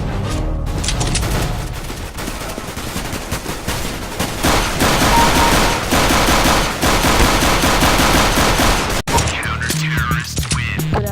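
Heavy automatic gunfire fills a Counter-Strike round on the Vertigo map, with loud, dense bursts of shots and impacts, a sharp cut near the end, then game sounds.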